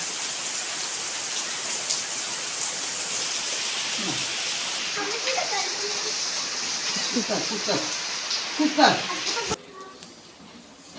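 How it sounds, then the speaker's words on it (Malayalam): Heavy, incessant rain falls around a home as a steady, dense hiss. A voice talks briefly over it partway through. "ഭയങ്കര മഴയാണ് കേട്ടോ എടുക്കാത്ത മഴയാണ് കേട്ടോ"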